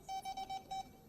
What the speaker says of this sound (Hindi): क्यों अलार्म कर रहा है?